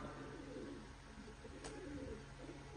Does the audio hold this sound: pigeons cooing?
yes